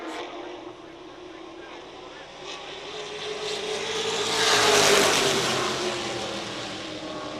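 Race cars roar past at a Retro Knights of Thunder oval event, a broad engine drone building to a loud pass near the middle and then fading slightly, with speech-like sound mixed in.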